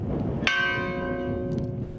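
A village church bell in rural Galicia tolling to mark a death, one loud clear strike ringing out and slowly decaying with a long humming resonance over faint outdoor ambience.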